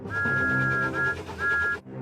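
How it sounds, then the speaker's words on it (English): A steady high steam train whistle sounds in three long blasts over a rumbling, busy background of music and noise, then cuts off abruptly. "Then Emily heard Thomas's whistle."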